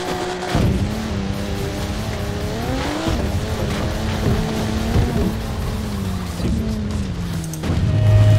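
A Toyota Supra drifting in the video game Forza Horizon 4, its engine revving loudly with rising and falling pitch and tires squealing through the slides, louder toward the end.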